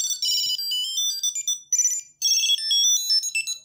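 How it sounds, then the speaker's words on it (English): A Tile Slim Bluetooth tracker ringing, a bright, high electronic melody of rapid chiming notes played in two phrases with a short break between, loud and alone. "Tap find to ring your Tile."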